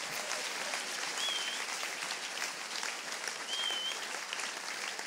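A church congregation applauding steadily during a worship service in Gabon, dense sustained clapping from many hands at moderate distance, with a couple of brief whistles cutting through.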